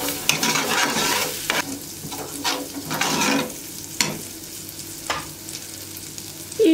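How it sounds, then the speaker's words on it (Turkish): Butter and dried mint fry in a small pan as a soup topping, giving a close, crackling sizzle broken by repeated stirring clinks, with no one talking. "Çorbanın üzeri için nane yakacağım."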